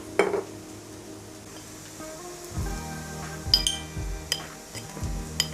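Spice powders stirred into sautéed onions in a hot pan for chicken masala fry, a faint low sizzle with repeated spoon scrapes and clinks against the pan in an uneven rhythm.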